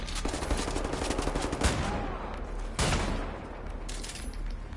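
Enemy gunfire in the shooter game Wolfenstein: loud bursts of rapid shots and automatic fire, with sharp cracks standing out among the clatter.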